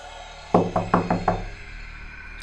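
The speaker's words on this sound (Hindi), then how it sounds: "बाहर से फिर से दरवाजा पीटने लगा" Someone bangs on a door from outside, five quick, loud, hollow knocks in a fast burst, followed by quiet.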